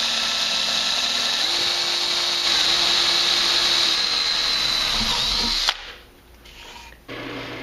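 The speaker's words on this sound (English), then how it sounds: "I'm going to drill out that center hole that I put in here." A drill press whines steadily at high pitch for several seconds while drilling a center hole in metal stock, then winds down abruptly and falls quiet before a brief restart.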